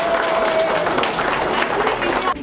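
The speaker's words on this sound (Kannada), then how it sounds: "ವಿಂದ್ಯಾ ಅವ್ರಿಗೊಂದ್ಸಲ ಜೋರಾಗಿ ಚಪ್ಪಾಳೆ." Loud, dense clapping from a group of school alumni, kids and ladies at a 1992-batch birthday get-together, steady throughout and fading slightly at the very end.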